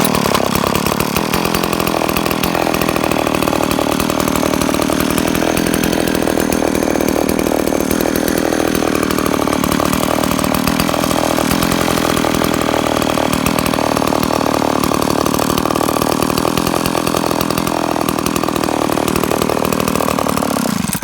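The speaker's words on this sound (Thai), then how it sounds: "เอาโชคลงสตาร์ทปกติครับ" A Kyoritsu 452 VLD chainsaw engine in for repair runs continuously after starting with the choke off, loud and close, its rough two-stroke buzz holding a steady idle for the whole stretch.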